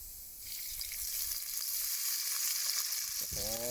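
Onions hit hot oil in a camp oven, the sizzle jumping up loudly and holding as a steady crackling hiss, with a brief whistling tone at the very end.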